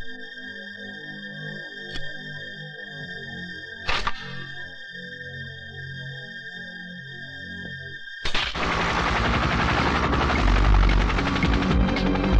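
Helicopter approaching in a film scene: a steady rhythmic rotor chop under sustained tones and sharp hits, swelling into a loud, dense roar as the aircraft arrives.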